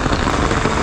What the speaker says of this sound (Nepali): कस्तो असिना हाले हो क्या झ्याल